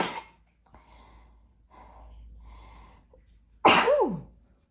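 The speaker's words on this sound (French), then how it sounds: "attention, je vais éternuer" After a few soft breathy inhales, one loud, sharp sneeze bursts out close by, ending with a falling voiced tail.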